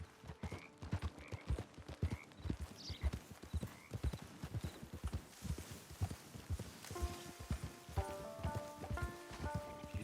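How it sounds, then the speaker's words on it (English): Horse hooves in Red Dead Redemption 2 clip-clop at a steady walking rhythm, close and clear, with a faint soft musical tone rising underneath toward the end. "There's the camp. It's your horse."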